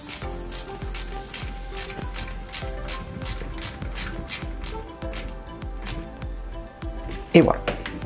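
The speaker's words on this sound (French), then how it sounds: "on fixe la deuxième roue avec une vis" A screw driven in to fix a wheel on a 1/8 scale Citroen C4 WRC 2008 model produces a steady run of small ratcheting clicks, close and fairly quiet, with a voice speaking alongside.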